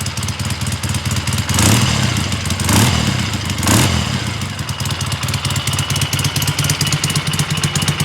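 A Triumph T140 Bonneville motorcycle idles loudly up close, its steady clattering beat broken by three short throttle blips that swell and fall back to idle, with no voices.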